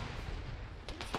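Two sharp grenade blasts in Arma, heard at a distance beyond a wall, snap out one after the other near the end over a low, steady rumble.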